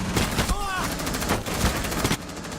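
Loud rapid gunfire rattles through a Rainbow Six Siege 3v3 tournament round as a Mira is pre-fired, dense repeated shots in quick bursts filling the whole moment.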